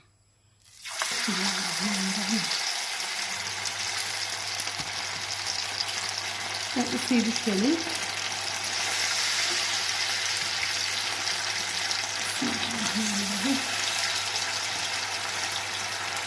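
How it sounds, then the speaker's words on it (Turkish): Marinated chicken breast fries in plenty of hot oil, sizzling and crackling steadily at close range, a continuous frying hiss, with a few brief spoken words over it. "bol yağda kızartıyorum arkadaşlar"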